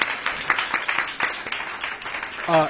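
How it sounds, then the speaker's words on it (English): Applause for student leaders at a school opening event, a short burst of many hands clapping, moderately loud and uneven, with a voice starting at the very end. "Let's give them another round of applause."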